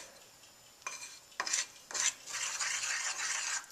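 Batter being mixed in a bowl for homemade cinnamon rolls, with a spoon or spatula scraping the sides, heard as a few separate scrapes and then steadier stirring, close and fairly quiet.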